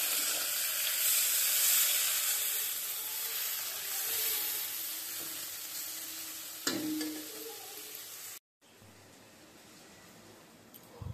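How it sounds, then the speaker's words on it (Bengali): Sliced onions fry in a pan until reddish for a pulao and meat lunch, giving a steady close sizzle and hiss with occasional stirring scrapes, a brief cut, then quieter frying. "পেঁয়াজটা লাল লাল করে ভেজে আমি রসুন দিয়ে দেব"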